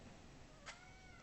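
A domestic cat gives a single short meow indoors, faint and brief against quiet room noise.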